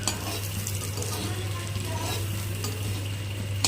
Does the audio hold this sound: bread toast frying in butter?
yes